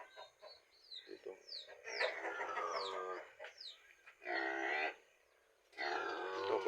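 Chickens settling down to roost in the evening on a small mini farm, with several close clucks and short squawks, then longer grunting calls in bursts, fairly quiet with short gaps between them.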